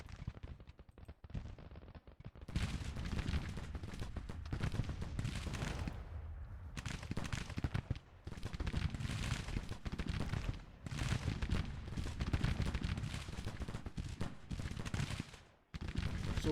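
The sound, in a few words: musket and artillery fire in the video game Grand Tactician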